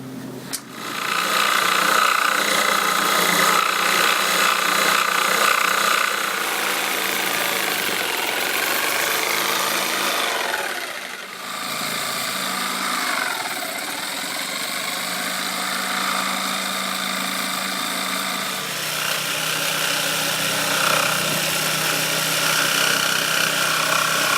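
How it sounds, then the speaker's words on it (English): A jigsaw cutting out a wooden longboard deck, its loud continuous buzzing drone running for a long stretch with shifts in pitch as the blade works through the wood, no voices. "we've got the jigsaw and we're going to cut it out"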